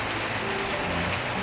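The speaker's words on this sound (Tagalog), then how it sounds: "grabe po ang lakas ng ulan" Heavy rain pours down on a cold Christmas Eve, a dense, steady hiss of drops that fills the whole moment without a break.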